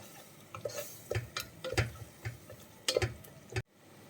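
Soya chunk biryani being stirred with biryani masala, a series of soft, irregular scraping and tapping strokes of a spoon against the pot, close and fairly quiet, ending abruptly.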